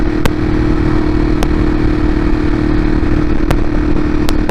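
A motorcycle cruising along a highway, its engine holding a steady, loud drone with constant wind rush throughout and a few sharp clicks or ticks breaking through.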